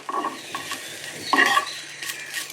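Spice masala frying in a pan on low heat for sambar, a faint sizzle beneath a few brisk spoon stirs and scrapes, with one stronger stroke in the middle.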